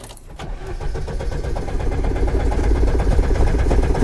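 An old car's engine is cranked and catches, a brief starter whir followed by a steady, rough idle that grows slightly louder, with no talking.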